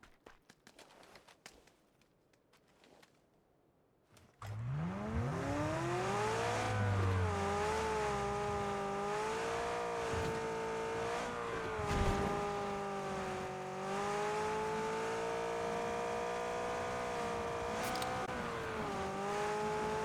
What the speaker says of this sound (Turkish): Ben gideceğim o arabayı kovalayacağım.